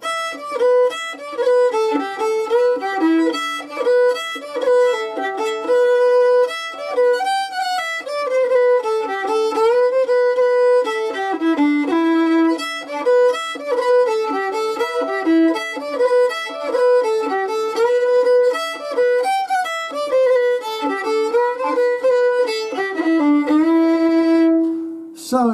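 A solo fiddle plays the opening bars of the Irish tune The Stray Away Child, a steady, flowing stream of close, clear bowed notes with ornamented turns, running without pause and without talk.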